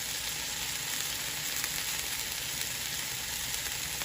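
Cod fillets frying in a pan give a steady, even sizzle with faint crackles throughout, close and alone with no talking.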